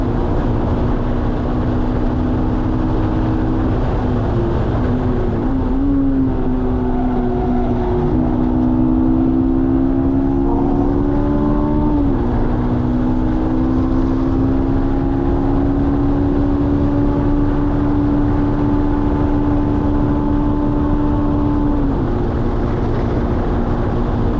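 Honda S2000 racing a lap at Watkins Glen International during a track event: a loud, close, sustained high-revving engine note that climbs and drops through gear changes, with steady road and wind roar beneath and no talking.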